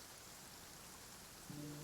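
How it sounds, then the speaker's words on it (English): Steady rain pours in Genshin Impact, a dense even hiss of falling drops that holds for the whole stretch, with a soft low tone entering near the end. "It's raining."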